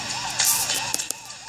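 Wailing police car siren from the video game Turbo Dismount, a steady rising-and-falling electronic wail repeating about every 0.4 seconds, loud and close, with a few sharp crash-like bursts over it.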